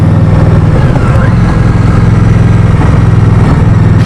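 A 2016 Indian Scout motorcycle on the Victory Octane platform running during a test ride, its engine giving a loud, steady, smooth drone with a constant low throb close to the microphone.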